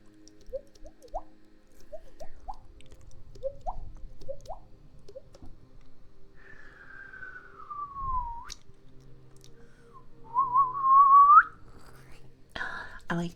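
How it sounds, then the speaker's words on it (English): A person whistles softly and close, starting with short rising chirps, then a long falling glide and a wavering sustained note, with faint breathy whispers and small mouth noises between. "I like to whistle"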